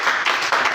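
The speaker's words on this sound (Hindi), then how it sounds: "जोरदार ताली।" A brief burst of loud applause from an audience at a talk, dense clapping close by that continues without a break for under a second.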